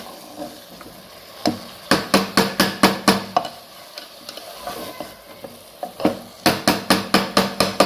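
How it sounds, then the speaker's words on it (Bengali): A spoon scrapes bottle gourd around a hot pan in quick rhythmic bursts of strokes, close and fairly loud, with a soft sizzle underneath and short pauses between rounds. "নেড়ে চেড়ে দেবেন।"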